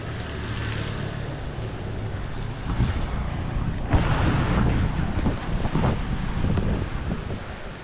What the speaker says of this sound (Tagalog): grabe ng hangin mga kalaot